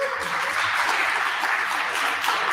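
Audience applause at the AI Lithuania hackathon awards ceremony, a dense, steady patter of many hands clapping that holds evenly for the whole short stretch with no pause.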